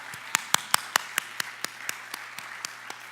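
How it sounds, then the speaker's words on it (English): Scattered clapping at an evening poetry event for student poets, a handful of sharp distinct claps ringing out one after another in a loose rhythm that gradually weakens, with a faint steady hum beneath. "Another round of applause for our student poets."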